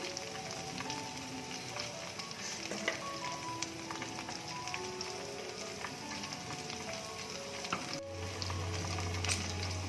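Prawns deep-fry in hot oil, giving a continuous, fairly quiet sizzle with scattered crackles and pops close by, with no voices heard.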